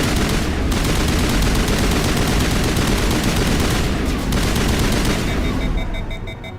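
Rapid automatic weapon fire from a space RPG, sustained loud bursts that keep going for several seconds before tapering off into quieter game sounds.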